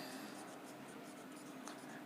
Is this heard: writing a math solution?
yes